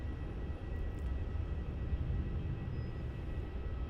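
A jet airliner taking off from runway 27 at Melbourne Airport, Australia, a steady broadband engine roar heard from a distance, moderately loud and unbroken, with no talk.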